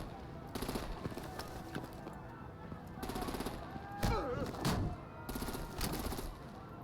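Bursts of gunfire and heavy artillery blasts ring out in a Batman video game, rapid clusters of shots in several waves with a louder boom near the middle, mixed with game voices talking.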